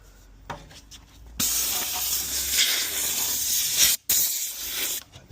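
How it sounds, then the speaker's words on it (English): A compressed air line blasts dust out of the rear wheel tubs of a Mk3 Escort, a loud close hiss that runs steadily for several seconds, breaks off briefly, then resumes before stopping. "I'm just going to blow out some of this dust that's in these wheel tubs at the back"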